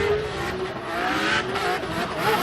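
A drift car with a 2JZ engine at a Formula Drift qualifying event in Orlando blares its exhaust note, a loud sustained engine roar with shifting pitch, tire noise mixed in, and no talk.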